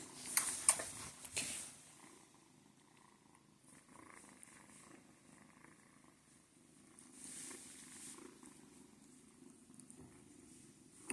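A cat purrs softly and steadily in a low rumble, with a few rustling thumps near the start and again later.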